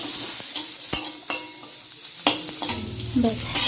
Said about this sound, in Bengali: ভাজাটা হয়ে গেছে এবার খেয়ে নেব